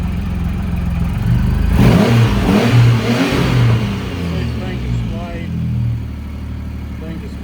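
A Triumph Rocket III motorcycle engine idles, then revs up in a strong burst and settles back down, with someone talking over it nearby.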